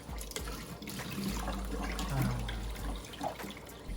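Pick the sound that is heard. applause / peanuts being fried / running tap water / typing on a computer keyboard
running tap water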